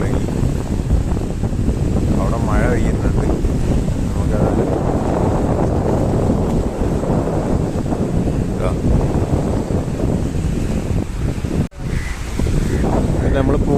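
Strong wind buffets a small fishing boat out at sea while waves surge and slap around it in a loud, continuous roar with a brief break near the end.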